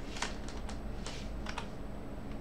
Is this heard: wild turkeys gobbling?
no